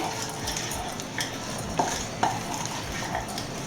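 Salsa dip ingredients with cumin powder, sugar and olive oil stirred together in a bowl, soft repeated scraping and clinking of a spoon against the sides with a couple of sharper knocks.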